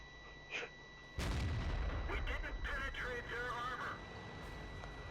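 A tank cannon fires in World of Tanks during a Centurion 7/1 match, one loud heavy blast followed by rumbling game noise and engine drone, with someone talking over it.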